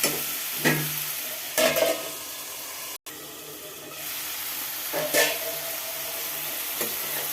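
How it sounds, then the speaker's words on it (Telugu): Onions and green chilies being stirred in a hot pan, a steady sizzle broken by several scraping strokes of a spoon, close and fairly loud. "బాగా కలుపుకుని మూత పెట్టుకుందాం"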